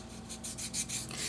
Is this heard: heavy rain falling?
no